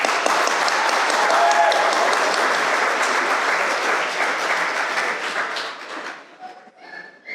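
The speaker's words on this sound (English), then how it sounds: "please give another round of applause to our dear Dr." A high school graduation crowd applauds an honored doctor, with loud, dense clapping that carries on for several seconds before thinning out and trailing off near the end.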